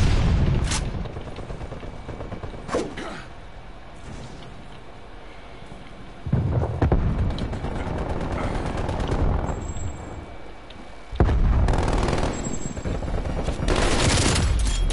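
Weapon fire in the video game Call of Duty Cold War rattles in loud close bursts, some long sustained volleys of automatic shots with brief quieter gaps between them, and no talk over the shooting.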